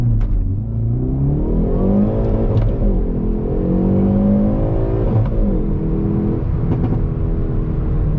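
A 2020 Hyundai Veloster N Performance Package engine blipping and rising in pitch as rev matching works through gear changes, a steady close mid-pitched drone with swelling revs and no talking.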